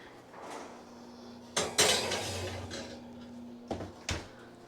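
A cast iron Dutch oven goes into a kitchen oven with a few hard metallic clanks and scrapes, two loud knocks, and a fainter clatter between them.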